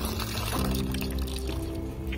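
Water poured to refill a container at a pigeon coop, a close, continuous splashing gurgle with rising fill tones over about two seconds.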